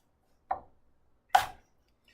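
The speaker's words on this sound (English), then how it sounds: "Let's get our ginger minced." Two separate sharp knife strikes on a cutting board while mincing fresh ginger, close and clear with a pause between them, no talking.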